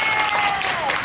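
An audience applauds during a live Weibo talk show where a band are guests. The clapping is a steady, dense wash with a voice carrying over it.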